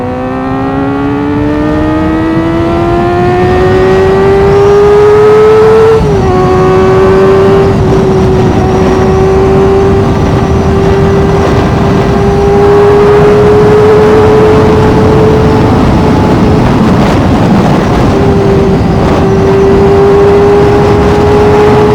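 A Kawasaki ZX-4R motorcycle engine revs high and steady while riding, its pitch climbing then holding through a brief shift dip, loud and continuous with wind rush and no talk.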